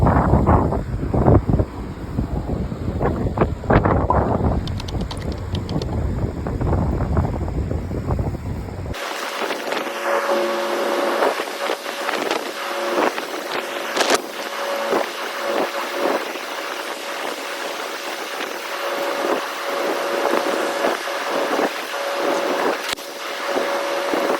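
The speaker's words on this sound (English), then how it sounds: "The air is just the natural wind." Steady wind noise blowing across an outdoor air conditioner unit during a repair, with a broadband rushing roar that shifts abruptly partway through to a thinner, hissy gusting with a faint tonal hum.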